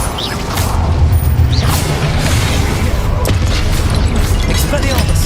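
A Confringo blasting spell explodes in the Hogwarts Legacy video game, a heavy booming blast with crackling debris over a dense, rumbling game soundscape, loud and sustained.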